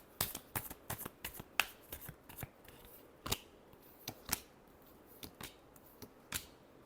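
A deck of tarot cards is shuffled close by, a quiet run of crisp flicks and papery snaps in uneven bursts, with no talking.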